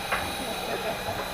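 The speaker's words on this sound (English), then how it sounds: "In the meanwhile is the steam train with the open FLAK carriage attached to the rest of" Steam train with an open FLAK carriage hisses steam at a WW2 reenactment railway event, a steady loud broadband hiss with faint speech mixed in.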